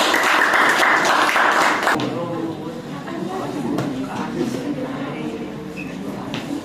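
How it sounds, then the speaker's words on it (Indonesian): A burst of group clapping from a grade 8 class fills the first two seconds, then fades into murmuring voices and room chatter. "Mari beri semangat tepuk tangan kelompok 1."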